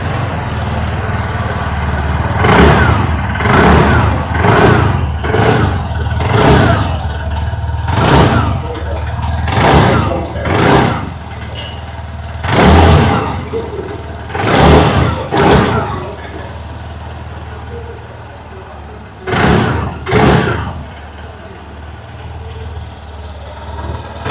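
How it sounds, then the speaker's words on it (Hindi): A 2025 TVS Jupiter 125 scooter (OBD 2B) revs its exhaust in a series of sharp throttle blips rising above a steady idle, with short pauses between bursts and a final pair near the end. "आइए अभी सुन लेते हैं इस स्कूटर की एग्जॉस्ट नोट।"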